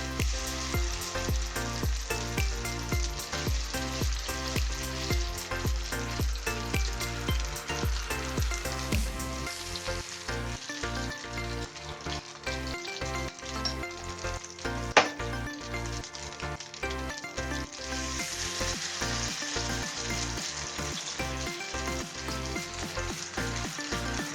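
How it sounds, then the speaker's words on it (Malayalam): A spicy hashbrown set into hot oil in a pan, a steady, close sizzle and bubbling frying that runs continuously throughout, with a single sharp utensil knock partway through and no voices. "ഇപ്പോൾ എണ്ണ ചൂടായിട്ടുണ്ട്. ഇനി നമുക്കിത് ഇതിനകത്തേക്ക് വെച്ച് കൊടുക്കാം."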